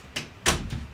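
A door is opened to let a cat in, heard as a quiet close-range clatter with two or three short knocks and a brief scrape.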